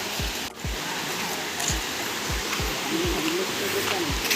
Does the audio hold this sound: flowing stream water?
yes